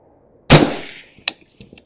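A single sharp, loud rifle shot from an LMT 12.5-inch SPECWAR firing green tip ammunition, cracking outdoors with a decaying tail, then a fainter second report and a few small clanks.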